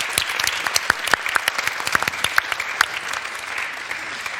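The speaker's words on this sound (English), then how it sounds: "A warm applause for our wonderful panel." An audience at a TEDx salon event applauds its panel, with crisp, distinct hand claps from a smallish crowd standing out clearly before thinning toward the end.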